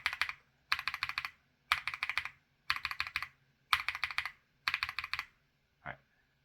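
A mechanical keyboard fitted with long-pole bottom-out Durock Black Lotus and Wuque Morandi switches clacks in six rapid bursts of crisp keystrokes separated by short pauses, then a single faint tap, close and alone.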